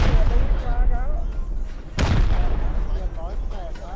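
Rapid gunfire from a raid in the video game Rust, with a sharp loud blast midway and repeated shots under ongoing excited talk.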